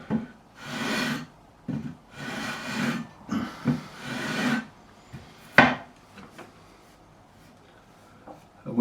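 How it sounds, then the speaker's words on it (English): A file smoothing the frets of a Fender Jazzmaster guitar gives several slow rasping strokes, each a few seconds of scraping, then a sharp tap and fainter small scrapes, close and alone. "we're just going to smooth off these frets"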